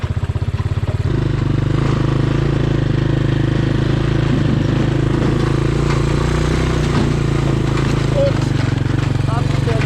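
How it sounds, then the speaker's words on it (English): A John Deere Gator utility vehicle crawls in first gear along a frozen wooded trail, its engine giving a loud, steady, close-up chugging drone that begins with a rhythmic pulsing and runs without a break. "the Gator crawls pretty good."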